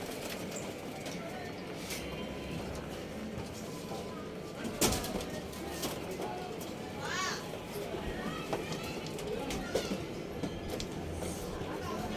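Racing pigeons coo softly in a loft during a fun race, their calls mixed with people talking and a busy, noisy background.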